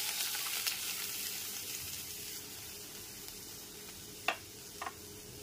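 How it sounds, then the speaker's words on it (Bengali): Milk heats in hot ghee in a kadai over a medium gas flame, giving a soft steady sizzle with a couple of sharp clinks near the end. "গ্যাসের ফ্লেমটা মিডিয়ামে রেখে দুধটা হালকা গরম করে নিয়েছি"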